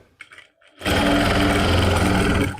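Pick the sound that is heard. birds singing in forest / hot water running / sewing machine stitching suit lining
sewing machine stitching suit lining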